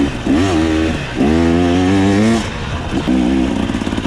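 A 2024 KTM 300 XCW two-stroke enduro bike revs up in loud, rising bursts, climbing into its power band three times with brief drops in between, close and alone.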